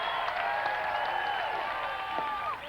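Stadium crowd at an Alabama college baseball game roars and cheers steadily on its feet, a loud sustained wash of voices and applause throughout.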